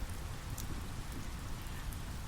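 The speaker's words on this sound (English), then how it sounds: "The rain is heavy, but it feels so light and refreshing" Heavy rain falling steadily in a forest clearing near a waterfall, a dense continuous hiss with scattered drops pattering close by, no voices or thunder.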